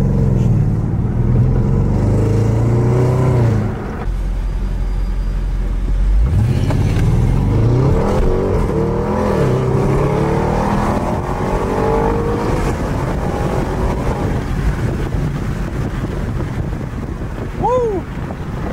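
An Audi RS7, tuned past 800 horsepower and fitted with an Armytrix exhaust, drives with a loud, continuous engine roar and rising revs heard from inside the car, with wind noise and people talking over it.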